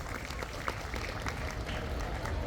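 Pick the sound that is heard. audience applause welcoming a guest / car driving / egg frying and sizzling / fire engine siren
audience applause welcoming a guest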